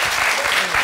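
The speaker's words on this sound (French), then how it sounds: "Applaudissements." Studio audience applauding on a French quiz-style show, a short, loud burst of dense clapping.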